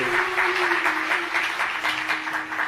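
Audience clapping at a religious gathering in a Hindu temple, a steady mid-level patter of many hands sustained throughout, with a faint tonal hum running underneath.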